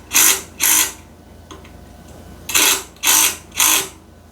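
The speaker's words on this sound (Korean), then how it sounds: "이 10mm 육각 너트 꽂아서 조여주면 됩니다" A power driver tightens a 10mm hex nut on urinal plumbing in five short, loud, whirring bursts, two quick ones then a pause and three more, up close.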